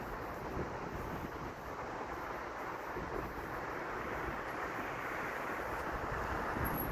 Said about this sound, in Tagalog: Sarap na hangin.